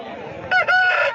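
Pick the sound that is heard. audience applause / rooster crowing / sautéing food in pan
rooster crowing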